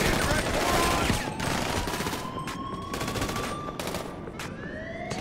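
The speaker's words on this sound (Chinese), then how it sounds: "一看到我就射击啊" Soldiers at a military base in GTA 5 firing guns in rapid bursts of automatic fire that go on and on, with a siren-like rising tone and other game effects in the mix.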